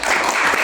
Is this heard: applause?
yes